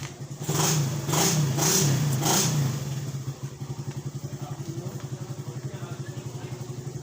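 A Yamaha Mio Gear scooter at a motorcycle market revs hard in several loud, close bursts, then drops to a steady, pulsing idle. A voice is faintly present underneath.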